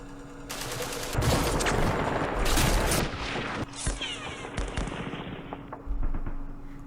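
Gunfire in the Middle East war game Campaign Series Middle East, loud crackling bursts of shots with sharp reports and fading echoes over a steady background hum, no talk.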